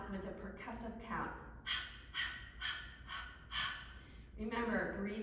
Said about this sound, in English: you're exhaling through the mouth with a percussive count